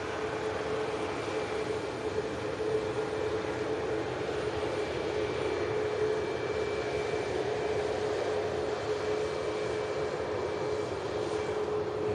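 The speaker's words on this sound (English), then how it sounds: "This Ryanair arriving into us from Alicante." A Ryanair Boeing 737 MAX 8-200 jet arriving from Alicante, its steady engine roar broad and continuous at a distance with a faint whining tone, unbroken for the whole stretch with no talk.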